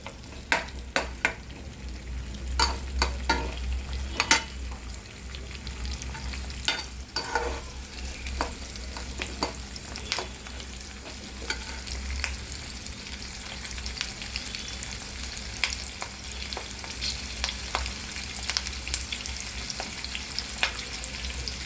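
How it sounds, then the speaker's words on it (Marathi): Onion frying in two spoons of oil in a pan, a low steady sizzle broken by sharp scraping stirs and clinks at irregular intervals, up close with no voices. "आता आपण कांदा भाजत आहोत"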